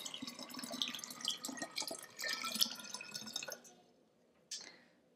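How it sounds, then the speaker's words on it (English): Water trickles through a funnel into a vase for flowers, a close, bright splashing pour with small glassy drips that stops partway through, leaving near silence broken by one last splash. "So I'm going to take the water and pour it into the funnel."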